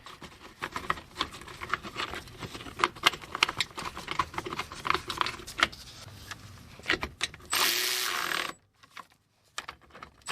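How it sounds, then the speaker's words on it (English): A ratchet tightens 15mm bolts on a car control arm cover with rapid, sharp clicking strokes in uneven bursts, close and fairly loud, ending with a short whirring sound and then near silence. "tighten both of these 15mm bolts down as well"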